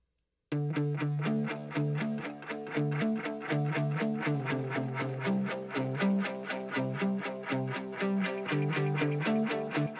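Electric guitar played through a Marshall Plexi Super Lead 1959 amp emulation with Echo Boy echo, a steady run of distorted picked notes in even rhythm with repeating echoes, loud and continuous, no voices.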